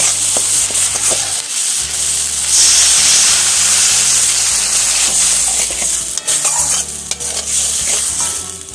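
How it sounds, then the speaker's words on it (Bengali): Spices with mustard paste, chili paste, turmeric and salt stirred in a frying pan, a loud close scraping of the spatula with steady sizzling and repeated strokes, no talking. "এবার একটু নাড়াচাড়া করে জল ঢেলে দেব"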